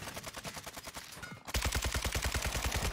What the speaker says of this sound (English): I'm getting shot right here.